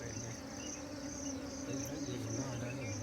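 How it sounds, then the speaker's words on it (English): Bees buzz during a honey harvest, a faint continuous droning hum with a high whine that wavers slightly, heard from nearby in the open. "The bee sting has caused Kisset's hand to swell"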